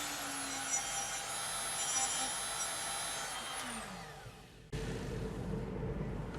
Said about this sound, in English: I forgot to chamfer the end, so let's do that